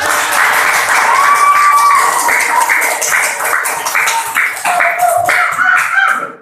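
Loud, dense clapping from a classroom of students applauding a group, sustained for several seconds with voices mixed in before it tapers off at the end.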